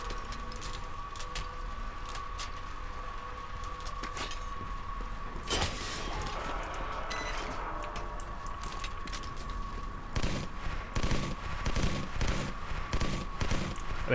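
Rapid bursts of gunfire in a first-person shooter battle in a besieged city, crackling steadily throughout and turning denser and louder toward the end, with no talking over it.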